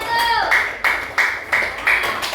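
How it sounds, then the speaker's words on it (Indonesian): Classroom students clap together in quick rhythmic bursts, roughly five sharp rounds of applause in a row, fairly close and loud, with a voice briefly heard at the start. "yuk tepuk tangan untuk kelompok 1"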